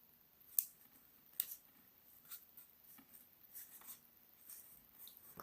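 Paper being creased and folded for an origami Batman mini car, soft close-up crinkles and a couple of sharper presses scattered over a few seconds in an otherwise quiet room.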